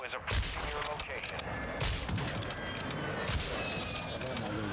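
Rapid gunfire from a Call of Duty Warzone DMZ match, shots fired close by inside a castle, with repeated sharp bursts and reports layered over constant game noise and muffled talk.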